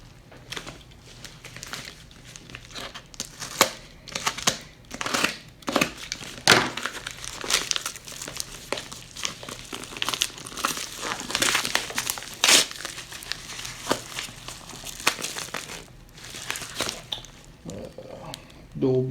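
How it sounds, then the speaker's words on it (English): Plastic and cardboard packaging of a Piscifun fishing reel being torn open, loud crinkling and crackling in repeated bursts, with someone talking intermittently. "So let's tear this bad boy open and see what we've got here."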